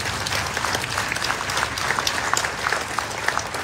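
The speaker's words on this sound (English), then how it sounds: "Let us give Richard a round of applause" Guests applaud a speaker at the opening ceremony of an FSM consulate office, many distinct hand claps rising in a lively, sustained round that fills the room.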